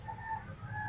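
A red Lalpar rooster, a Sindhi breed, at a Nushki bazaar gives a brief, fairly faint call with steady tonal notes over low market background noise.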